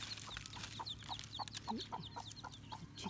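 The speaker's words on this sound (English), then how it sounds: "Chickens." Chickens cluck at a house construction site in Bohol, Philippines. Repeated short clucks come in a loose rhythm at moderate distance over a low steady background hum.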